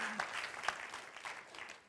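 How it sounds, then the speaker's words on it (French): A church congregation claps in steady, dense applause that sounds a little distant, with faint voices mixed in under it. "Encore une bonne main d'applaudissement pour le privilège de la prière."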